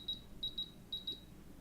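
Five short, faint high-pitched electronic beeps from a sewing machine sound in irregular quick succession over a low background hum, a couple of them doubled.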